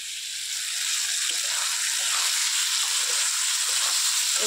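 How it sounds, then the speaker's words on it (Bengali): Chopped tomatoes tipped into a hot pan for a home curry, a loud continuous hiss of sizzling and frying up close, steady and unbroken with no talk over it. "টমেটোগুলো দিয়ে দিচ্ছি।"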